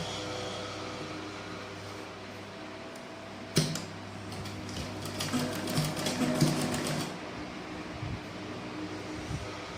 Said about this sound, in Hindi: फिर यहाँ पर एक सिलाई और दे देंगे यहाँ पे नीचे की तरफ से